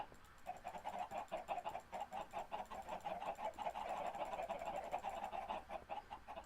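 Many chickens crowded together in a small space in the Minecraft video game cluck in a fast, rhythmic chatter of short bursts that runs throughout at a fairly low level.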